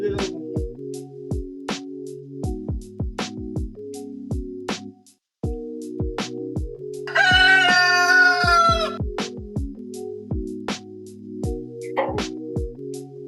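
Chickens cluck at a market poultry shop, with repeated close clucks and a loud crow in the middle, over steady background noise.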